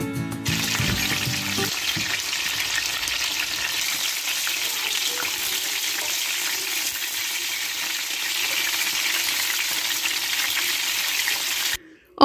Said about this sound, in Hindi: अब हमने करना है करेलों को फ्राई, और उसके लिए एक कढ़ाई में ऑयल लेंगे